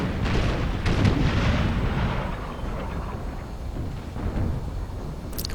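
Artillery and musket fire rumble continuously in an Empire Total War battle, a dense, loud bed of booming cannon blasts and crackling volleys with no let-up, ending in a brief sharp burst.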